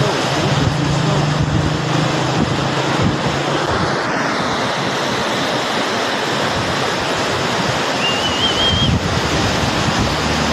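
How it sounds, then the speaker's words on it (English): Dangerously strong floodwater of the Swat River in Pakistan rushes past in a loud, unbroken roar, with wind buffeting the microphone and no clear speech. "Water flow is dangerously strong."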